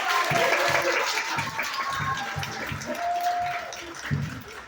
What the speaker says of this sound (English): Let's give our fireworks a round of applause.